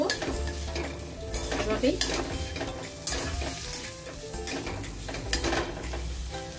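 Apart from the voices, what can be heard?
stirring and frying elephant foot yam with garam masala in pan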